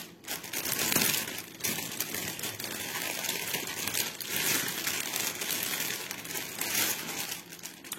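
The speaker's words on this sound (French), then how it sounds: "Ah, ces bruits de plastique." Plastic packaging being crinkled and handled up close, a continuous crackly rustle with irregular bursts and no voices.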